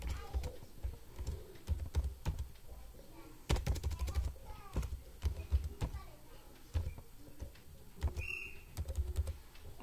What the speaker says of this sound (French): Moi, je vais taper mon mot de passe.